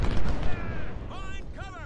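Artillery guns firing during a Civil War battle at Fredericksburg in the strategy game Ultimate General: Civil War, heavy low booms in the first half-second, then a rumbling battle din with voices talking over it.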